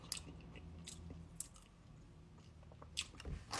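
Someone chews crunchy freeze-dried vegetables close to the microphone. Sharp crunches and bites come at irregular intervals between softer squishy chewing, all quiet and intimate.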